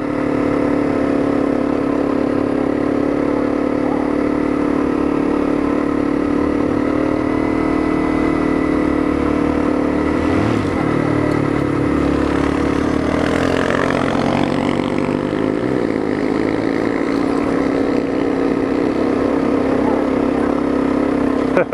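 A Honda CRF250L dirt bike engine labouring up a steep hill climb, a loud steady drone with shifting revs and a rise in pitch midway, heavy wind buffeting over it and someone speaking underneath.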